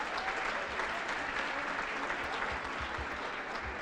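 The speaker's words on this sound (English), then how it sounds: "How about another round of applause for Haley?" An audience at an evening awards event applauds for Haley, dense sustained clapping from a large crowd heard at a distance, even and continuous from start to finish.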